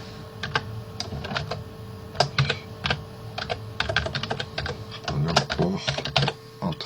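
Rapid keystrokes on a computer keyboard come in irregular bursts and short pauses, close and crisp, with a faint voice speaking at times underneath.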